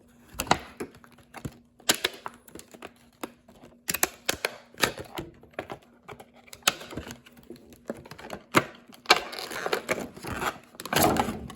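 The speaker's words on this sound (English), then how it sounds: "So this is the deck box I won just from the raffle. It's a duelist deck box. Thought I'd open it up on camera" Tapping, clicking and scraping of a duelist deck box being worked open and handled, a busy irregular series of sharp close knocks and rustles, no talking.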